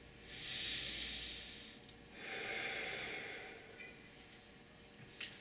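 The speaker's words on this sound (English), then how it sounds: "breathe in." Slow, deep breaths drawn in during a guided hip and buttock stretch, two long airy inhalations fading into quieter breathing, close and fairly soft with no talking.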